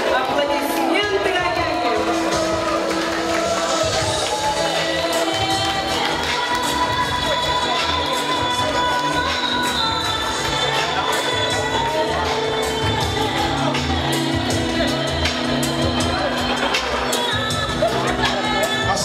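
A crowd at a Sagaan Sar (White Month) show in Ulan-Ude, Buryatia, claps and cheers loudly and steadily throughout, with children shouting and whoops mixed into the dense applause.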